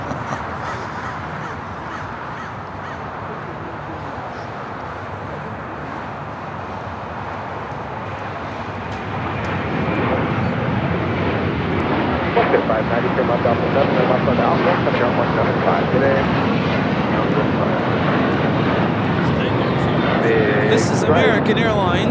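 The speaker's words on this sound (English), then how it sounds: "This is American Airlines Flight 2965 taking off to Dallas Fort Worth on an A321." American Airlines Airbus A321 on its takeoff roll at LAX, a broad steady jet roar that swells louder about halfway through, with crows cawing nearby and people talking over it.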